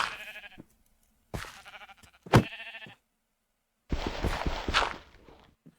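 Sheep bleat in the Minecraft video game, a few separate calls and a longer, noisier bleat, loud and close with short silent gaps between them.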